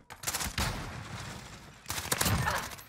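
Two heavy AX-50 sniper rifle shots in a video game, each a loud, sharp crack with a long rolling tail, separated by almost two seconds.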